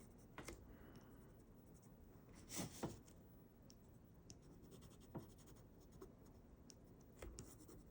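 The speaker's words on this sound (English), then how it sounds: "I'm going to use my black pencil, and it's going to give this cool gray a little bit of texture" A black pencil held on its side lightly shades texture onto paper, making a faint, steady scratching with a few sharper strokes standing out against a quiet room.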